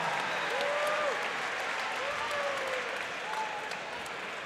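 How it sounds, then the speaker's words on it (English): Audience applause for two competitors at an Ignite event, a steady wash of clapping filling the room, with faint voices and a few high whistled tones riding over it. "Give a round of applause for Leena and Annabel"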